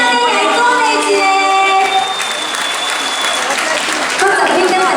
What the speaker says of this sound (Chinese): 掌声给我们王菲鼓励鼓励